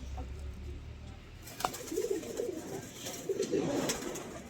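Soft cooing of domestic pigeons in a farm loft repeats in low, throaty phrases amid a quiet indoor hum, with a brief flutter or bump partway through.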